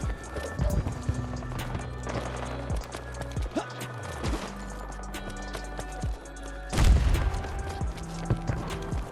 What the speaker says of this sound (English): God, I hear footsteps all around me.